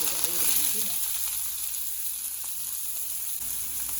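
Chopped onion dropped into hot coconut oil with mustard seeds, giving a steady close sizzle with a brief crackle at the start, with no talk.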